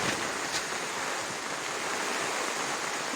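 Strong wind ahead of a rainstorm roars steadily across the microphone, a constant broad rushing noise with occasional gusts and no speech.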